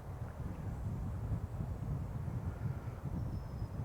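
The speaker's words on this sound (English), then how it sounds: "Little wind blowing today." Wind blowing by Brushy Lake on a paved lakeside trail, a steady low rumble and buffeting that stays close and even throughout, with no voices.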